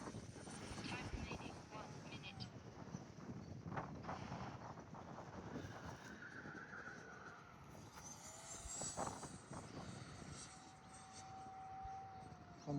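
A small 50mm electric ducted fan RC jet climbs into a big loop at full throttle against the wind, its high whine steady and fairly distant through buffeting wind noise on the microphone, with a person talking over it.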